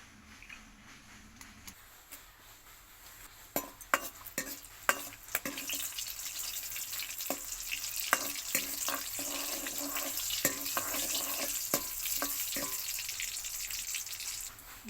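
Cumin, garlic and curry leaves drop into hot oil for tempering a ridge gourd chana dal. A soft hiss swells into steady sizzling dotted with sharp pops and crackles, close by and moderately loud.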